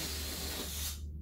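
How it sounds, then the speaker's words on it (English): Air rushing out of a latex balloon stem, a loud broad steady hiss held close for about a second before cutting off abruptly, with no voices. "the air comes out, right? Just straight out the tube"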